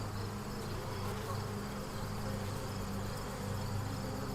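Honeybees buzzing steadily at an opened beehive during an inspection, a dense, continuous drone close to the microphone with no speech.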